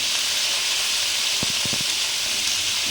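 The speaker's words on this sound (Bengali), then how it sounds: "ভাজতে দিয়ে দিচ্ছি আমি, শাহি পনির হবে যে, তার জন্যে এগুলো ভাজতে হবে ভালো করে" Potatoes and pointed gourd fry in hot oil for shahi paneer, a steady broadband sizzle running throughout, with a few brief low clunks near the middle.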